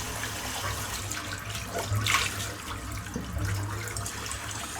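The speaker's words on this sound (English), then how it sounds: "Brush done, I'm rinse the soap out now." Tap water runs over a soapy shaving brush to rinse out the lather, a steady close splashing flow that swells briefly midway, with no speech.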